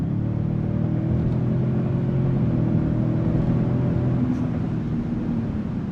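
A 2026 Toyota Sequoia TRD Pro accelerates toward highway speed, its engine holding a loud, steady drone with rising harmonic tones, heard from inside the cabin with no talking.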